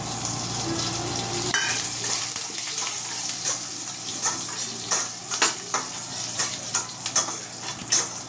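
Garlic and curry leaves hitting hot oil in a pan, a loud bright sizzle that flares up as they go in, then crackling and spattering bursts settling into a steady close fry.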